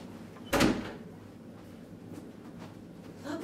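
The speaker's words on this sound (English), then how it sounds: "I'm just gonna get the door." A door is opened indoors: one sharp clack and thump near the start, then a quiet room with faint shuffling noises.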